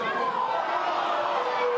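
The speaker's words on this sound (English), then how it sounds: "The crowd vociferous in their appeals for a foul." A football crowd at an A-League women's match between Canberra United and Western Sydney Wanderers roars steadily and loudly in appeal for a foul, with a commentator speaking over it.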